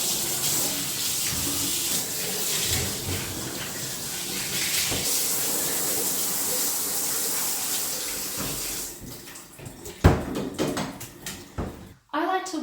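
Water running and splashing while a dog is rinsed during bathing, a steady close gush from a tap with bumps and handling noises, then fading.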